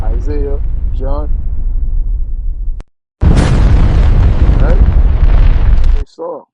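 Recorded nuclear blast explosion: a loud, sustained roaring rumble lasting about three seconds after a sudden onset, preceded by talking and followed by a brief voice.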